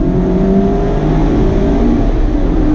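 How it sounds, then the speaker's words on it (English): A 2019 Mazda MX-5 RF sports car engine revving and accelerating in second gear, a loud steady throaty exhaust roar with rising pitch, close and continuous. "Great sound from the exhaust out back."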